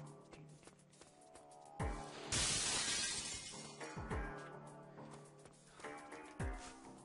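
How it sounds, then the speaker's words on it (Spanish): Glass shatters loudly in the Syphon Filter video game, a bright crashing burst lasting about a second with smaller breaking hits before and after, set among game sound effects and a low musical hum. "La manera en que se rompen los cristales en el juego le da un toque de acción"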